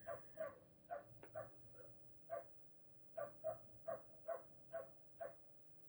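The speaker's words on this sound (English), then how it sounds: "there is a dog barking right now, guys." A neighbor's puppy barking outside in a backyard: about a dozen short, high yips in irregular pairs and singles, faint and distant, with no talk over them.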